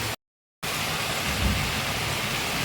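Steady rain pours down in a dense, continuous hiss after a brief silent break near the start, with no voices over it.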